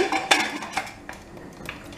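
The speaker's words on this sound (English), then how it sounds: "Now close the lid" Lid set onto a metal pressure cooker: several close clinks and clatters of metal on metal in quick succession, with no voices.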